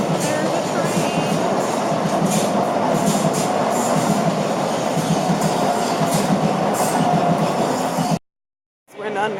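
London overground train rumbles past loudly and steadily with rhythmic clatter of wheels on track and faint squeals, continuous for several seconds before cutting off abruptly near the end.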